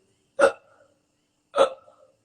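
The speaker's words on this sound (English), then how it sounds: "Hiccups, burping." Two sharp hiccups about a second apart, each a short, abrupt vocal catch that fades quickly into silence.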